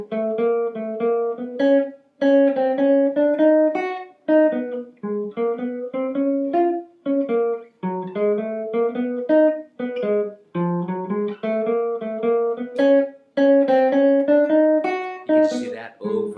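Jazz guitar plays the B-section melody of a tune: a steady stream of plucked single notes and short phrases with clear ringing tones, close and upfront, continuing without pause for about sixteen seconds.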